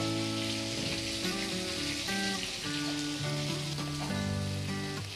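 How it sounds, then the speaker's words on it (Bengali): Dried red chili, a bay leaf broken in two and five-spice tempering sizzling in hot oil for a Bengali prawn and water taro greens dish, a steady close crackling fry throughout with no talking. "এবার আমি ওই তেলের মধ্যে ফোড়ন দিয়ে নেব একটা শুকনো লঙ্কা, আর দিয়ে নেব একটা তেজপাতা দু টুকরো করে"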